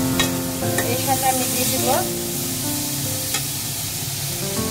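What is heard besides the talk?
frying chickpea halwa mixture in ghee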